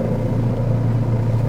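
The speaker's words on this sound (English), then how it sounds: "It's got the intercooler sound as well." A turbocharged Mahindra Scorpio engine hums steadily from inside the cabin, with a constant low rumble and a faint intercooler whoosh beneath it, even and unbroken, with no talking.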